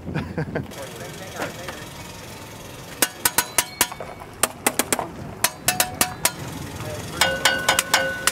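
Sharp metallic strikes ring out in irregular bursts, some quick clusters and a few ringing tones, as a scrap engine block is struck close by.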